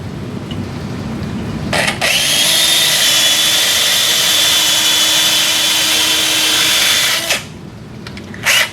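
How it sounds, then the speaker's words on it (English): A powered core drill bores a wrist arthroplasty hole into a Sawbones model, spinning up to a steady high-pitched whine for about five seconds before winding down, with short bursts on either side. "We're going to start with the radial hole first, and then remove it, and then drill the ulnar hole."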